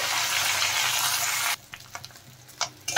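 Bata fish frying in a pan for a mustard-based recipe gives a loud, steady sizzle for about a second and a half, then drops to quieter intermittent crackles and clinks.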